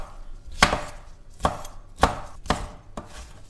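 A knife chops a grated orange into pieces on a board, five sharp, separate cuts spaced about half a second apart, close and clear, with no voices.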